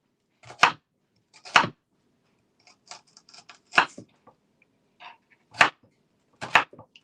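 Knife chopping onions for Thanksgiving prep, a handful of sharp, separate chops at uneven intervals with lighter taps between them, close and clear, with no talking.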